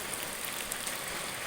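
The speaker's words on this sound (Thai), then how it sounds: "มื้อนี้ฝนมาลงให้เนาะถือว่าโอเค" Heavy rain pours down on a hot night, a dense, loud, unbroken wash of hiss and patter with no voices.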